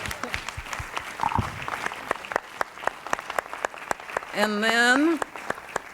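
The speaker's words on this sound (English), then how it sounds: "Could you all please stand and let us give you a round of applause?" A seated audience at an academic conference breaks into applause for the program's principal investigators, with sharp distinct claps ringing out steadily. A voice speaks briefly over them near the end.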